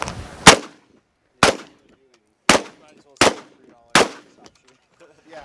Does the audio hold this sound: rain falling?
no